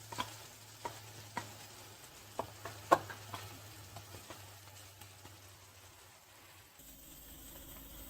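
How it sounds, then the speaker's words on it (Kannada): Ground masala paste is stirred into cooked brinjal in a pan, giving faint, scattered scrapes and knocks of a spoon against the vessel over a quiet, low sizzle, with no talking. "ಇವಾಗ ರುಬ್ಬಿಟ್ಕೊಂಡಿರೋ ಮಸಾಲಾನ ಹಾಕ್ತಾ ಇದ್ದೀನಿ"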